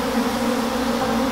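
A mass of agitated honey bees buzzes around an opened hive in a short, loud, unbroken drone heard up close.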